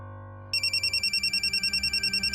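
A mobile phone ringtone starts abruptly and repeats a steady, evenly pulsed electronic ringing pattern, loud and close, over a low room hum, with no talk.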